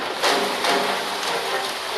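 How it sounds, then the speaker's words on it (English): Heavy storm rain pouring on a Spanish coastal resort town, a dense, loud, hissing downpour with slight surges, continuous for two seconds without voices. "The accompanying storms bring heavy rains and widespread flooding."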